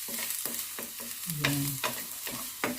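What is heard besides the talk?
garlic frying and being stirred in a pan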